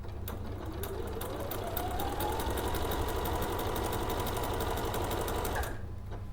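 A sewing machine stitches fabric slowly and steadily, its close, rhythmic needle thumping running continuously before stopping abruptly near the end.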